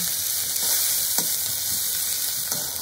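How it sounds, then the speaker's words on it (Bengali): Grated ginger and chopped green chilies fry in a pan with a constant hissing sizzle, and a few faint scrapes and taps come from a utensil stirring them. "এবার আমি এগুলোকে খুব ভালোভাবে নেড়ে দেব"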